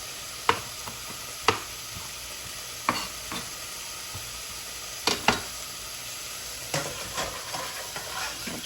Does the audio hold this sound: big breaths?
no